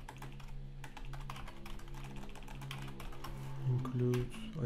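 Rapid keystrokes on a computer keyboard clatter steadily throughout, close and fairly loud, with a low background hum and a brief tonal swell near the end.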